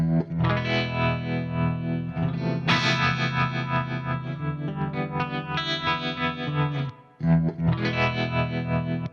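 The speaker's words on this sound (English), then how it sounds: "if you go to the left, you're getting more of like a square wave, more like a vibrato" Sustained electric guitar chords wobble with a choppy, pulsing vibrato, loud and close, with a brief drop to near silence before the chords return.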